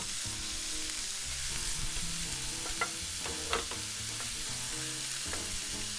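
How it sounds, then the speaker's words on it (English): Thin strips of steak sear in a hot pan while being stirred for beef stroganoff, a steady dense sizzle running throughout with a few sharper crackles and pops near the middle; no talking. "Ah yeah, listen to that sizzle."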